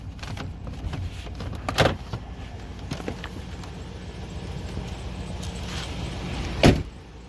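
Power windows of a 1999 Chevrolet Tahoe squeak and whir faintly in short bursts after rain, with a couple of louder thumps or creaks standing out against a steady background rumble.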